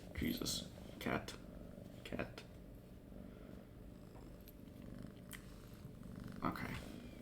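A cat purrs softly and steadily in a quiet room, a low continuous rumble broken by occasional clicks and short bursts of noise, with faint speech nearby.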